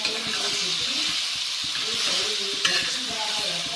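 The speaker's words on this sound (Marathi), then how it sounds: "आता आपण याला मिक्स करूया." Chakki bharit stirred in a hot pan, with a continuous close sizzle and hiss and repeated scraping strokes of the spoon at a steady rhythm.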